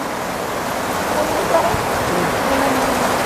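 Steady rain falls outdoors as a dense, even hiss with no clear breaks, fairly close and moderately loud, carrying on alone across the whole stretch.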